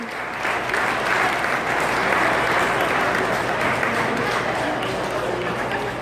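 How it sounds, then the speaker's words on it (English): An audience claps continuously at a Naval Nuclear Power Training graduation ceremony, dense applause heard close and steady throughout. "Let's give a round of applause."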